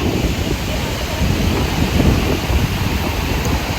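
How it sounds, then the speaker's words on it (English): Ocean surf rolling onto a beach at Playa del Carmen, Mexico, a steady broadband wash with gusty wind noise on the microphone, continuous and fairly loud throughout. "listen to the sound of the waves crashing"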